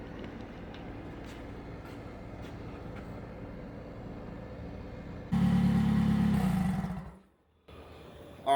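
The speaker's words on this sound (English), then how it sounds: "it's been idling for a little while now" A Nissan X-Trail engine with a suspected head gasket fault idles with a steady, low rumble for several seconds, then swells louder and rougher before cutting out briefly and resuming at a lower level.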